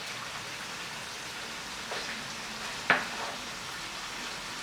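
Ginger and garlic, a big spoonful of each, fry in a pan for goat head achar, a steady close hiss of oil with one sharp utensil clack partway through.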